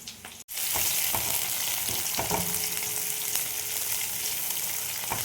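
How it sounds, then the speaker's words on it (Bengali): Onions hitting hot oil with black cumin in a pan burst into a loud, steady sizzle after a brief moment of silence, frying continuously and close up with faint stirring, no talk. "পেঁয়াজগুলো একটু ভেজে নেব।"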